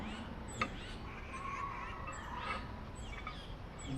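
Birds call in short chirps and squawks a little way off over a low background hum, with a few sharper cries standing out.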